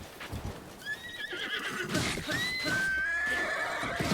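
A horse in Zelda Breath of the Wild whinnies in several rising, squealing calls over soft clip-clopping hooves, fairly close and moderately loud, with no talking.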